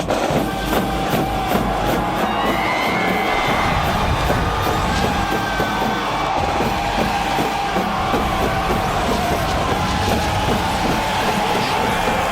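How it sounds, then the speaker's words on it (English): Crowd cheering and shouting at an outdoor timbersports competition in Montana, a steady loud roar of many voices with whoops that carries on without a break. "Crowd's ready to go here in Montana."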